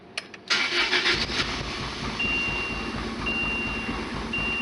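A 1991 Lotus Elan's engine cranks and strains to catch, with a sharp start of the starter whirring into a rough, uneven mechanical churn that carries on steadily, close and fairly loud, with a faint high electronic beep recurring.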